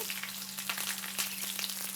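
Mustard seeds and fenugreek fry in hot sesame oil for a garlic pickle, a dense continuous sizzle with fine crackles, close and steady over a low electrical hum, with no voices.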